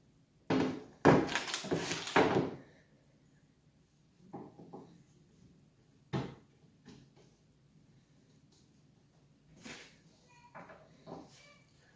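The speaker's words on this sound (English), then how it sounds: "we're going to go on ahead and mount this door." Indoors, a kitchen cabinet door is mounted in a DIY remodel, with a burst of knocking and handling noise followed by scattered thunks and clicks at close range, with quiet gaps in between.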